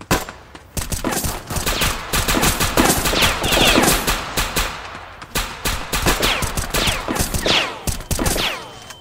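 Rapid bursts of gunfire in a Roblox shooting game set in the South Bronx, dense overlapping shots and rattling fire, loud and close, continuing almost without pause.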